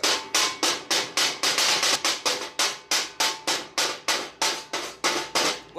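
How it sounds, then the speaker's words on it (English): Rapid, evenly spaced metallic taps, about twenty sharp strikes in quick rhythm, of a chipping hammer knocking slag off a weld. Close and loud. "Knock the slag off it."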